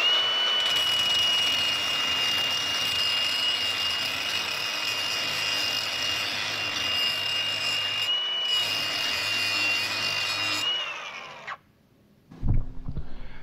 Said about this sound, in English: So yeah, I'm just going to quickly sharpen these flails up.